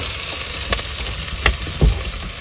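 Paprika and olive oil sizzle loudly in a pan on an RV stove, a dense continuous frying hiss broken by a few sharp stir clicks and pops.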